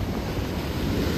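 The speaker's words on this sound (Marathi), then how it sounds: "लाटा खूपच जोर येते" Strong ocean waves surging onto Butterfly Beach in Goa, a steady, loud, continuous roar of churning surf mixed with wind buffeting the microphone, no voices heard.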